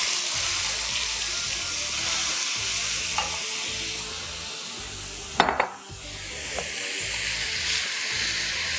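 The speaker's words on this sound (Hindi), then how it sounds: "थोड़ा सा इसी का सूप डाल दूंगी।" Stock for yakhni pulao poured into a sizzling pan, with a steady loud frying hiss, stirring scrapes, and a brief splash-like burst midway as liquid hits the hot pan.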